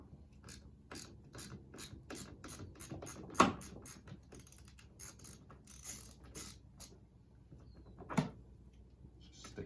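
A ratchet with a 10 mm socket loosens the negative battery terminal on a 2005 Mercedes C230 Kompressor W203, producing a quick run of close, crisp clicks in uneven bursts, with a couple of louder metallic knocks.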